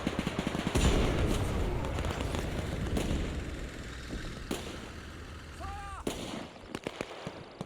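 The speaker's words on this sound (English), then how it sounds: "An AI guy jumped on our machine gun that was taken out. He's firing." Machine gun fire in the Men of War 2 war strategy game, with bursts of shots and explosions at moderate level amid a busy battle soundscape, fading toward the end.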